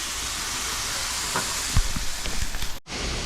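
Vegetables sizzle in oil on a campsite griddle, a broad steady hiss with a few clatters of utensils, then a brief cut before the sizzle resumes.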